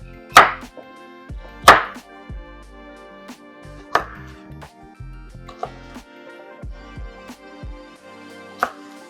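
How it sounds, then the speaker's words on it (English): A knife roughly chops carrots on a cutting board, several sharp, close thunks at uneven intervals with quiet gaps between, over faint background music. "I'm going to chop some carrots roughly"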